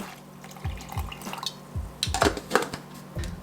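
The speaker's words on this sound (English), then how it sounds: "I'm just gonna be adding some water here as well" Water splashes and trickles into a container while a vegan meal is prepared, with soft knocks and short irregular bursts of pouring, close and moderately quiet, and no talking.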